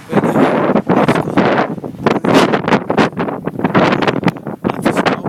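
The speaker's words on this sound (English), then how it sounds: "You're not feeling this, but it's real windy out here as well." Strong wind during a 2010 New York blizzard batters the microphone in loud, irregular gusts that rise and fall without pause, with no speech.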